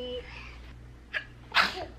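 A single close sneeze from a home setting with a toddler, a short sharp burst preceded by a small intake sound, fairly quiet overall.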